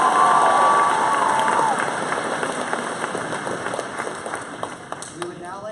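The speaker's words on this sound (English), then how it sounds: "Let's give them another big round of applause." Students at a conference opening applaud and cheer loudly, dense clapping mixed with shouts and whoops from a large crowd, easing slightly toward the end with scattered voices.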